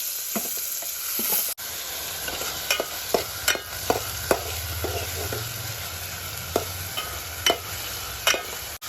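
Onions sizzle steadily in hot oil while a spoon repeatedly clicks and scrapes against the pan as they are stirred, close and moderately loud.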